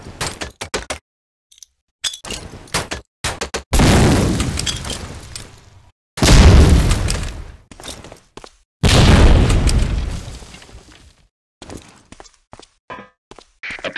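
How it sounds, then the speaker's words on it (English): Grenades exploding one after another in Medal of Honor: Allied Assault, three loud, sustained booms thrown into concrete boxes, separated by smaller clanks and impacts, with no talking. "Throw a grenade into each of the concrete boxes."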